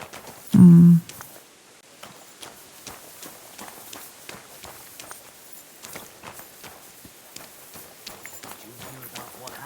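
Horse hooves clip-clop at a steady walking rhythm in Kingdom Come Deliverance 2, a series of light, evenly spaced thuds running under quiet game ambience after one brief louder burst near the start.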